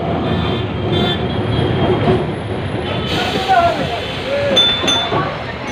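A Kolkata tram runs on its rails with a steady rolling rumble, faint clinks and brief wheel squeals, passengers' voices mixed in under the noise.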